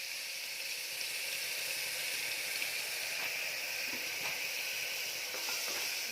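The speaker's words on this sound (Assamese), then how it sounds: "তেলটো গৰম হৈ গৈছে। মই এতিয়া পিঁয়াজখিনি দি দিম।" Chopped onions hit hot, smoking oil in a pan while cooking chole, giving a steady, bright sizzle and hiss that holds throughout with faint crackles and no talking.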